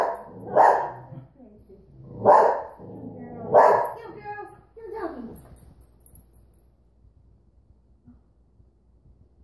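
A dog gives three loud, close barks, one growly bark following, then goes quiet; no other sound competes.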